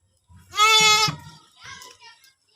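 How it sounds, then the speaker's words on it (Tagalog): A goat gives one loud, close bleat, strained and wavering, followed by a softer short call. "Yung kambing na bibilhin natin."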